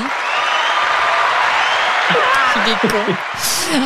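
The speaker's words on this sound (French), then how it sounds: "J'ai des applaudissements si on veut." A crowd applauding in a steady, dense wash of clapping, with a voice talking over it toward the end.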